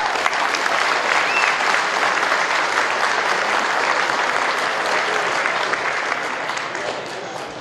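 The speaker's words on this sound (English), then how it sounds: "So I just want a round of applause for Boone County Fiscal Court." Sustained applause from a sizable crowd at a rally in Boone County, Kentucky, dense and even clapping that holds steady throughout before easing slightly at the end.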